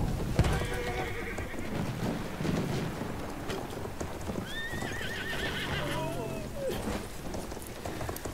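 A horse neighs and whinnies over steady clip-clopping hooves in Battlefield 1, with a busy, noisy background of game sounds and scattered clatter.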